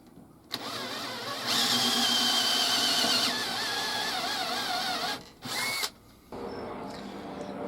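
A power drill whines loudly as it bores into antler for a walking stick, running steadily for several seconds, then stopping, with a short burst after.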